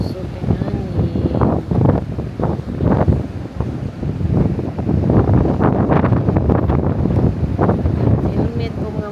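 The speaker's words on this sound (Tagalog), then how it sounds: "Kusog ang hangin." Strong wind in Fuerteventura buffets the microphone with a constant roaring rush while a person talks underneath.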